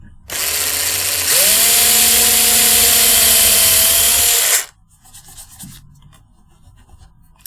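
A small power drill with a 1.5 mm bit whirs loudly at a steady pitch for about four seconds, drilling into a shamisen, then stops abruptly, leaving quiet handling noises.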